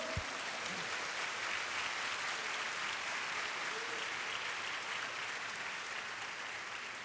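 Church congregation applauding steadily at a Sunday service, a dense, continuous burst of clapping that holds at an even level throughout.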